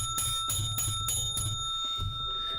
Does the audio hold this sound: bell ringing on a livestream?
yes